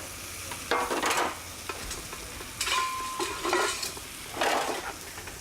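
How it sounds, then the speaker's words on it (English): Food sizzling steadily in a pan while it is stirred, with repeated scraping bursts of a utensil against the pan. "I can hear the sizzle."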